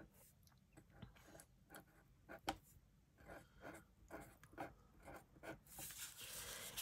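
A pen scratches across paper in a botanical ink swatch book, making faint, close, irregular strokes and taps. Quiet room noise sits between the strokes.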